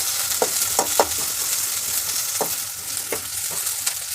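Cut onion pieces fry in a pan until golden for a bottle gourd fry, giving a loud, close, continuous sizzle broken by several sharp scrapes and taps of a stirring spoon.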